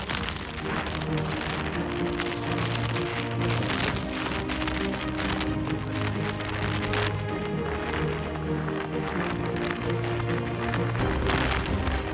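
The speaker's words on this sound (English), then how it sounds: "The wind is blowing 40+ miles an hour, and it's raining." Heavy rain pounds down nonstop under a constant roaring wind of 40+ mph in Iceland, a dense, loud wash of noise with no pauses.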